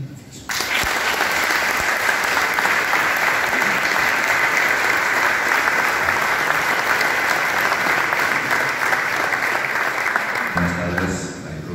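An audience at a book presentation in Zaragoza gives a sustained, dense round of applause. It starts abruptly, stays loud and steady for about ten seconds and then fades out at the end.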